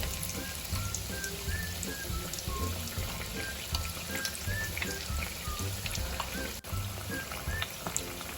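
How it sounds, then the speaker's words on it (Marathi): Bread rolls frying in oil until brown, giving a continuous dense crackling sizzle like rain on a surface that holds steady and fairly loud from start to finish, with no talking. "हे आपल्याला ब्राऊन होईपर्यंत तळून घ्यायचे आहे"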